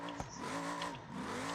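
Car accelerating in the driving game BeamNG.drive, a steady engine drone with rising harmonic sweeps as revs climb, loud and continuous with no talking.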